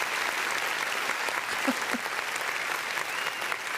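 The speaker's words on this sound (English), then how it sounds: "Let me give you an applause first" A short burst of steady hand clapping, dense and even throughout, with no voices over it.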